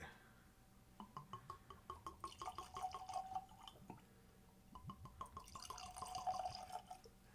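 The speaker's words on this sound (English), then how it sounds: "That's a nice pour." Tullibardine Sovereign whisky poured from a bottle in two bursts, with rhythmic glugging gurgles and splashing into a glass, quiet and close.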